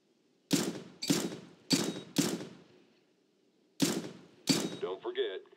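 Six sharp gunshot volleys from shooting practice targets in Counter-Strike: Global Offensive, fired in short bursts with pauses between them, the last burst trailing into clattering echoes.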